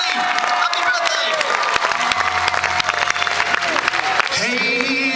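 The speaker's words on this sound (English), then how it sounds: "So big round of applause for Johnny Come Lately" Audience applause and some cheering for a band member's birthday before a tribute performance, dense clapping over a bed of stage sound and voices, with a tone rising near the end.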